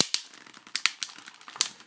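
Plastic wrapping on a Pokémon card tripack being opened, a close, quiet burst of sharp crinkles and crackles in irregular quick snaps over two seconds.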